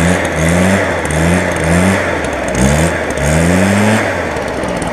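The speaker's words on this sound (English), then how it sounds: "give it one more rev. Got slight hesitation when you rev it" A Stihl BR420 backpack blower's two-stroke engine revs up and down in several loud, close bursts with rising pitch sweeps, with a slight hesitation in the revs and no talking.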